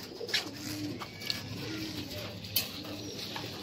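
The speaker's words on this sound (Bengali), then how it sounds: "এই যে কবুতরগুলো আজকে রোদ খাওয়ার জন্য ছাড়লাম" Pigeons let out into the sun at a rooftop loft, soft low cooing murmurs at close range with a few light wing or foot taps against quiet outdoor ambience.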